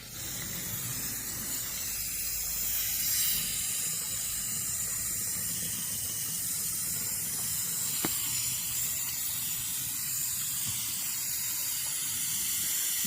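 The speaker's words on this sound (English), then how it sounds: "So it's time to water" Steady hissing spray of water from a hose watering a garden bed, continuous and fairly close, with no talking.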